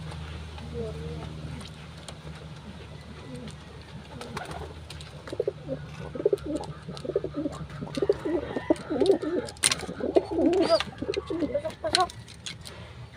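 Pigeons cooing nearby in repeated soft, throaty bursts that grow busier toward the end, with scattered flapping and knocks and a person speaking briefly.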